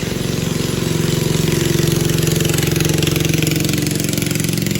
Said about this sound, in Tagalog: Marami naman dumadaan na bangka.